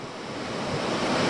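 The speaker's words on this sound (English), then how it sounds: "needed to look at that waterfall, hear that sound, catch those fish" A waterfall at a trout creek in a gorge pours with a steady, dense rushing roar, close and loud, with no voices over it.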